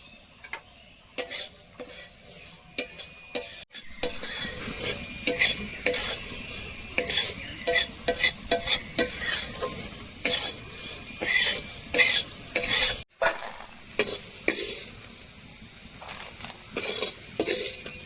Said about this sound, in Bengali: এবার আলু পোস্তর জন্য আলুগুলো ভেজে নেব।